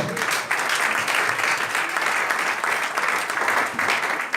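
A church congregation claps together in sustained applause during a worship service, a dense, even wash of many hands that holds steady for several seconds.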